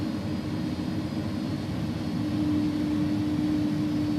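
An Airbus A300-600R freighter's jet engines at takeoff power on runway 22 in the X-Plane 11 flight simulator, giving a steady, loud roar with a sustained high whine that builds slightly toward the end.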